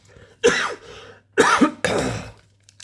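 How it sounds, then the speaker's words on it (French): Three sharp, close coughs in quick succession, each a harsh burst with brief quiet between. "Commence à tousser là, c'est pas bien"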